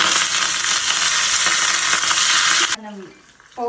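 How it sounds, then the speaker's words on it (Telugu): Hot tempering (popu) sizzles loudly and steadily as it is poured into chili paste, with a bright frying hiss that cuts off abruptly, followed by a few soft clinks and stirring sounds. "మనం పోపు ఇలా వేడిగా ఉన్నప్పుడే మనం దీంట్లో వేసేసుకోవాలి"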